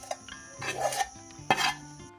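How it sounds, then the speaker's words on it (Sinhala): A spoon stirs a thick cassava curry mixture, clinking and scraping against the bowl in a few distinct, close metallic strikes separated by quieter moments. "මේක දන හින්දා මම හැන්දෙන් කලවම් කරනවා"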